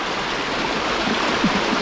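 Strong river current rushing steadily, a broad continuous wash of flowing water close by with a faint gurgle near the end.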